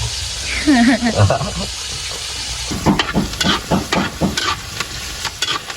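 Corned beef sautés in margarine in a pan, with a steady sizzle and repeated scraping stirs. A voice speaks briefly near the start, before the stirring grows rhythmic.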